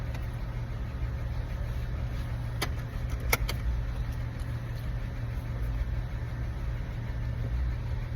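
Car being driven, heard from inside as a steady low engine and road rumble with a few faint clicks and ticks in the cabin.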